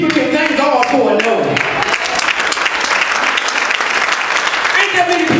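Applause from a church congregation during preaching, many hands clapping loudly and close together in an irregular patter, with voices calling out over it.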